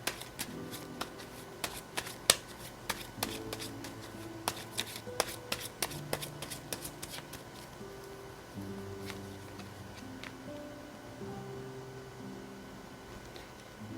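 Tarot message cards are shuffled by hand, with repeated crisp riffling slaps and flutters in irregular bursts, close and fairly quiet.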